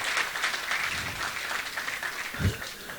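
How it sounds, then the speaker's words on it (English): An audience applauds in a steady, moderate wash of clapping for about three seconds, with faint voices mixed in underneath. "Please give them another round of applause, please."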